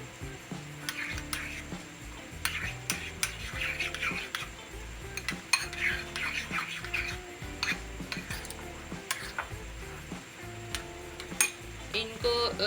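Chicken patty mixture with black pepper and salt being mixed in a bowl for a burger, a busy run of clinking and scraping against the dish with irregular knocks, close and steady, no talk.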